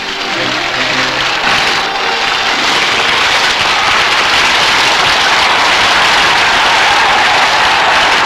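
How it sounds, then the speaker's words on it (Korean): An audience gives sustained, dense applause after a stage performance of Korean fan dance, drum dance and gayageum singing, loud and steady throughout with no talk over it. "박수를 보냈습니다."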